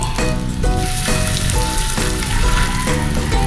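Chicken imbutido frying in a pan of dairy cream, a steady close sizzle and crackle running the whole time beneath background music.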